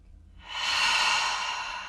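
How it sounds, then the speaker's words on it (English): One long, deep breath exhaled through the mouth during a hand self-massage routine. After a near-silent start it comes as a single close, airy rush that slowly fades. "you can take a deep breath in"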